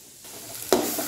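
Chana masala with garam masala powder stirred and sautéing in hot oil in a pan, a brief scrape of stirring followed by a rising hiss and sizzle, close and loud with no talking.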